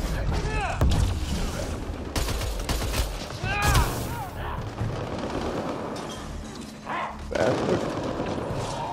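Gunfire from enemies in the sci-fi shooter Mass Effect: Andromeda, a busy stretch of overlapping shots and booming impacts with synth tones and explosive bursts, loud and dense throughout.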